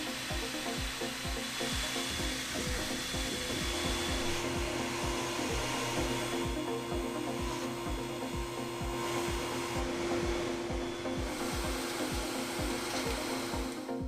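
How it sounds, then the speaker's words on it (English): A laser cutter slices a soft faux leather strip on its bed, giving a steady, continuous whirring hum with fine regular pulsing, close and alone throughout. "so I measure the length and place it on the laser bed for cutting"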